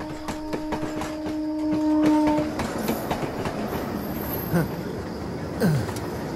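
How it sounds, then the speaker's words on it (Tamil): A passenger train clatters past nearby with rhythmic clickety-clack of wheels, a brief horn-like tone at the start, and squealing metal toward the end. "பாசஞ்சர் ட்ரெயின் வந்துருச்சு."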